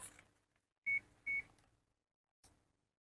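A multimeter buzzer set to diode or continuity mode gives two short, clear electronic beeps in a row while probes test a diode, with light clicks and handling noise around them in a quiet room.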